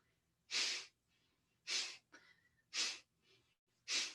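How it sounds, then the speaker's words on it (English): Forceful nasal exhales during pranayama breathing: four sharp, evenly spaced bursts close to the mic, with quiet inhales between them. "Start with an exhale through the nose."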